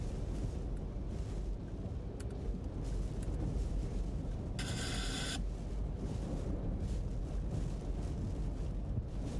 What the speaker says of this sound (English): Right now, we are seeing winds gusting over 80 miles per hour still.